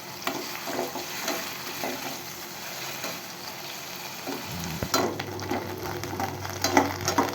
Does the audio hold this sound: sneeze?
no